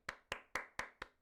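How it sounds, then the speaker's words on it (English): Six sharp, evenly spaced claps sound close and fairly quiet, a single person clapping briefly in a small room. "Let's welcome them with a round of applause."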